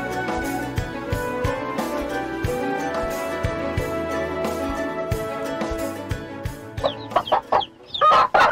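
A broody hen clucks inside a chicken coop, the clucks turning into sharp, agitated bursts toward the end over a steady rustling background.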